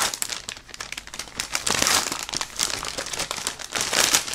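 Crinkling plastic bag of model kit parts, steady crackling rustle up close with dense bursts throughout, no talking.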